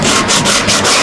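Close, steady hand sanding of nearly dry, slightly tacky drywall joint compound: rhythmic back-and-forth gritty scraping strokes, about five passes in quick succession, with no other sound.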